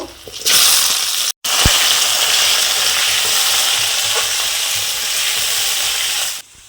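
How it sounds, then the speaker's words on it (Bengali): Potatoes are fried in hot oil with panch phoron, bay leaf and dried chilli, giving a loud, close, continuous sizzle with occasional stirring scrapes and a brief cut just after the start. "এবার আলুটাকে লাল লাল করে কষে নেব।"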